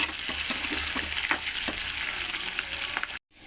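Onion and garlic frying in a pan for bassaru, a steady close hiss and sizzle with light stirring scrapes, running alone until it cuts off abruptly near the end.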